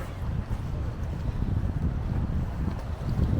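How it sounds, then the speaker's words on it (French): Strong gusting wind by the bay at high tide in Séné, Brittany, buffets the microphone with a constant low roar, loud and close, with no clear voices. "il y a beaucoup de vent"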